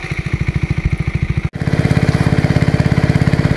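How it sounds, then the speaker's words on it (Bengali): A paddy threshing machine's engine chugs loudly and close in a fast, regular thumping rhythm, breaking off for an instant before resuming slightly stronger. "ধান ঝাড়া হবে, মেশিন এসছে।"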